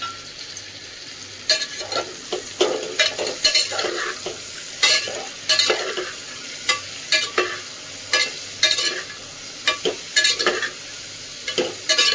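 Potatoes and green peas stir-fried in a pan, a spatula scraping and clacking against the metal in repeated irregular strokes over a soft steady sizzle, close and fairly loud.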